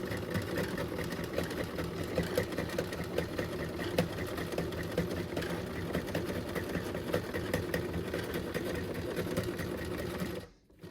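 A sewing machine stitches along the edge of a fabric face mask, running as a steady, continuous mechanical whir from start to finish and cutting off abruptly at the very end.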